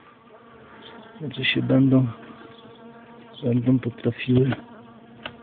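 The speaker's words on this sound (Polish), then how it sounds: "Pszczoły wychodzą" Bees streaming out of a hive during a June swarm experiment, a steady insect drone throughout with louder close buzzing bursts, while people speak over it in Polish.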